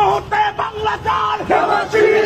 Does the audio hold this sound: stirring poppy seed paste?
no